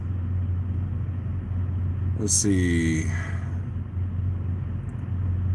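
Inside a pickup truck driving on the road, a steady low engine hum and road rumble carry throughout, with someone speaking briefly.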